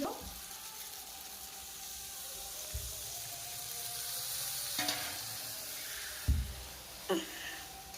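Spices fried in oil until the oil separates, a steady low sizzle and frying hiss running throughout, with a few soft clinks and stirring knocks near the end; no voices.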